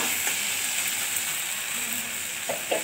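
Spice paste sautéing in hot oil for a garlic eggplant dish, a soft, continuous sizzle and hiss with a few faint scraping stirs near the end.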